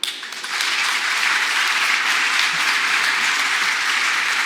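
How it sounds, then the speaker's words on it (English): Audience applause after a Kotlin multiplatform conference talk at Droidcon Italy 2024, a dense, steady wash of many hands clapping that swells quickly and holds at full strength throughout, with no voices over it. "Another round of applause."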